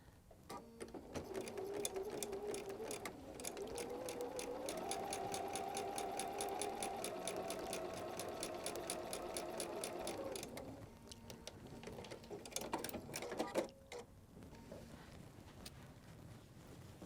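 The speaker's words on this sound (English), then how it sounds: "let's sew another good quality 1/4 inch." A sewing machine stitches a quarter-inch seam on a quilted table runner, a quiet steady whirring run of about seven seconds, then a couple of short bursts of stitching, close and alone.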